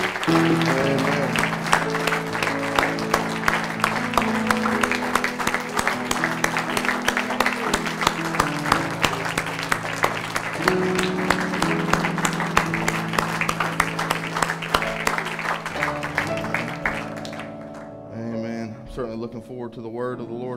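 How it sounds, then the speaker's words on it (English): Church congregation clapping hands in praise during an evening service, dense steady applause mixed with music and voices, fading out near the end. "Let's just give the Lord another hand clap of praise this evening."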